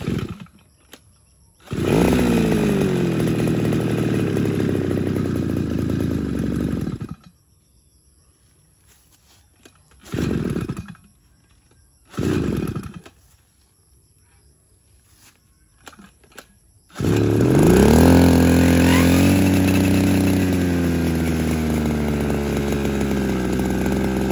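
Small two-stroke grass cutter engine running in bursts, revving loud for several seconds, cutting off, then two short blips before a sustained high rev; no talk.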